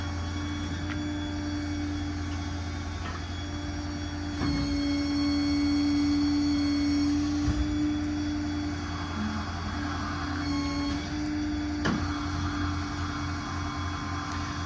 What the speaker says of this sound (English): let the winch down.